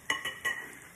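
Rice patties with potato and carrot brown in a frying pan with a soft, steady sizzle. Three light clinks of a utensil against the pan sound close by.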